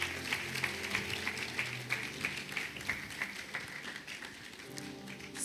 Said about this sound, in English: Please clap for him as he comes to the stage